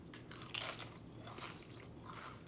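Nacho cheese Doritos chips, Japanese and Mexican varieties, are bitten and chewed close up, with one sharp crunch followed by quieter, softer chewing.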